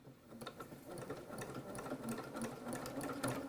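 A sewing machine runs steadily doing free machine embroidery stitches, its rapid rhythmic needle chatter close and moderately quiet throughout.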